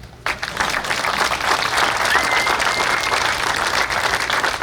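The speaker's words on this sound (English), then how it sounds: "That's worth applause." Audience applause at a ribbon cutting for a carousel, a dense, steady wash of many hands clapping that starts abruptly and holds loud throughout, with a low hum underneath.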